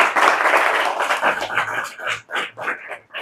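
Students in a classroom break into applause, a dense burst of clapping that thins into uneven, separate claps as it fades out.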